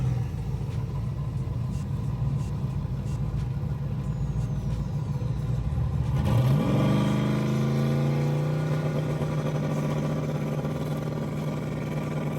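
Drag racing car at a starting line, idling with a steady rumble before launching into a loud, rising roar that climbs through the revs and holds strong down the track.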